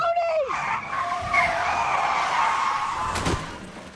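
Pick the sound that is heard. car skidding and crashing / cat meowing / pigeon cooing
car skidding and crashing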